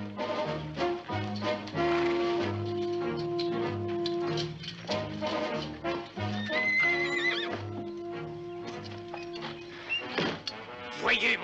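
A saddled horse whinnies loudly amid clip-clopping hooves and a dramatic orchestral score in a Zorro television episode, the neighs rising over the music near the middle, with no talking.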